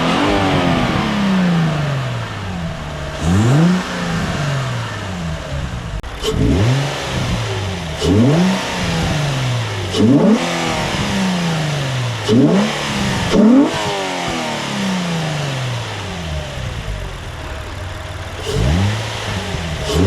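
A 2003-2007 Infiniti G35 with a freshly installed cold air intake idles nearby, then gets a series of sharp throttle blips, each rev climbing quickly and falling back to idle, loud and close with no talking.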